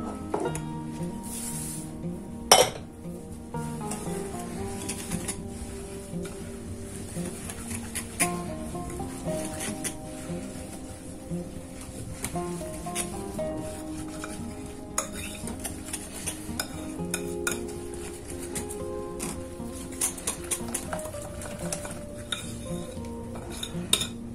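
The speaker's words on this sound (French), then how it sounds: "Et là, je vais ajouter mes flocons d'avoine." Rolled oats tipped into a bowl and stirred for flourless, fat-free banana oat muffins: a steady run of scraping, clinking stirring over a continuous tonal background, with no pauses.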